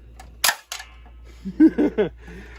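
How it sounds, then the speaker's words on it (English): A 1960s Deluxe Reading Topper Tiger Cannon toy fires with a sharp spring-loaded snap followed by a smaller clatter, then a few short voiced sounds follow close to the microphone. "It's Topper Tiger Cannon by Deluxe Reading Toys."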